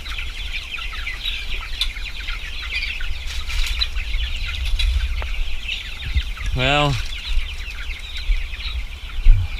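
Chickens cluck and rustle in a busy, noisy processing facility with a conveyor system and moving crates, with a brief high chirping call and a voice speaking briefly.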